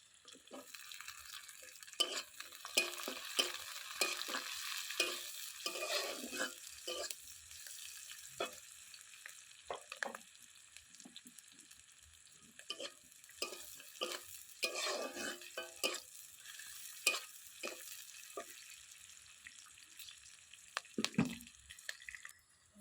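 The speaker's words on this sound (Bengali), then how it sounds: "পেঁয়াজ কাঁচা লঙ্কা ভালো করে আমি লাল করে নিয়েছি" Chopped onions and green chillies fry in a pan with a soft, faint sizzle, as a utensil scrapes and stirs in irregular bursts.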